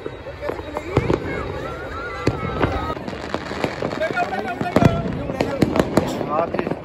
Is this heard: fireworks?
yes